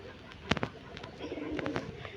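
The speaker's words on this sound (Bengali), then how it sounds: "আমার হাজব্যান্ডের অনেক শখ কবুতর পালা" Domestic pet pigeons kept on a home balcony coo softly in a short burst, with a few brief wing or movement sounds nearby over quiet room noise.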